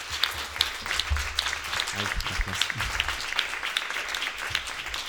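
An audience applauds at a conference panel session, with sustained, dense clapping throughout and a speaker's voice heard briefly over it.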